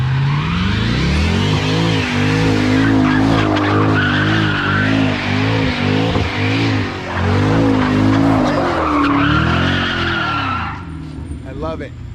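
A Jaguar 5.0 spins donuts with its tires skidding and squealing continuously while the engine revs hard, loud and close, with people shouting and talking over it before the tire noise fades near the end.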